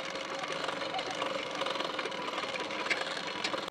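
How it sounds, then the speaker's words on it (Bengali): A sewing machine runs steadily, stitching a length of folded nylon fabric being gathered into pleats; the motor hums and whirs continuously at close range with a fast mechanical chatter and no speech over it. "তো প্রথমে কাপড়টি এইভাবে ভাঁজ দিয়ে নেব, নিয়ে এখান থেকে একটা সেলাই দিয়ে নিচ্ছি।"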